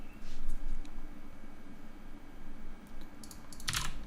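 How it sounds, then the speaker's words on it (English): Computer keyboard keys tapped as a password is entered, a short run of soft, close clicks over a steady hum, ending in a brighter cluster of quick keystrokes. "let's just type a password"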